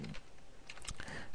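Code tapped out on a computer keyboard, a quick run of close, light key clicks in an irregular rhythm over a short burst.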